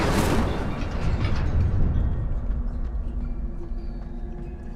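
Incendio fire spell cast in Hogwarts Legacy, a loud whooshing burst of flame that bursts out at once and then rumbles on in a long roaring tail that slowly fades, with no voices over it.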